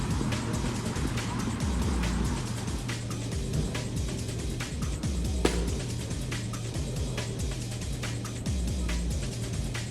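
Uber car pulling up at an airport, a continuous low engine and road rumble with occasional clicks and thumps, close and moderately loud.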